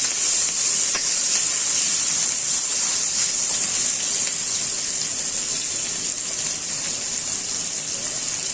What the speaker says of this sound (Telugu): ముందుగా మనం ఇవన్నీ కలిపి వేయించేసుకుంటున్నాం